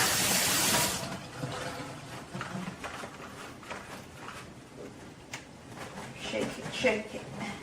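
Tap water runs to rinse out the clogged nozzle of a kitchen cleaner bottle, a loud gush at first that drops to a softer, steady trickle with light clatter.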